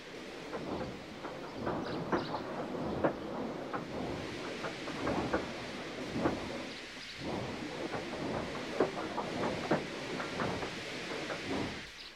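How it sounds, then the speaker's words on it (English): A large steam engine slowly easing onto a railway siding, giving a low, continuous rumble with irregular puffing beats throughout, fairly close and with no speech. "they uncoupled Gordon, who had enough puff to slink onto the siding out of the way."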